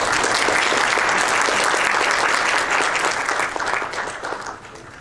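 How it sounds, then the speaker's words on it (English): A luncheon audience applauds at an annual volunteerism event, a thick, even wash of clapping that holds strong before easing off slightly at the close. "I'd like to give you a round of applause for the great work you do"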